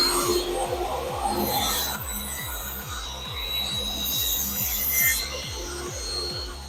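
A table saw blade tilted to a 45-degree bevel and set about 1/4 inch high cuts a board for a planter, giving a steady close rasping whine over a rhythmic low throb for several seconds, with no talking.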